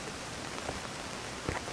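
Heavy downpour, a dense, even hiss of rain with a few louder drop splashes near the end.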